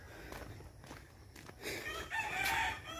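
Fighting cocks crow in a rural village, with a fairly faint nearby crow rising near the end amid soft clucks and farmyard background, no talking.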